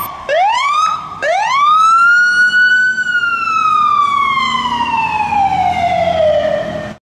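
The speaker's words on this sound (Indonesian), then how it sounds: "Wow, ambulan warna merah." A red toy ambulance sounds its siren close by: two quick rising whoops, then one long wail that climbs and slowly sinks before cutting off abruptly.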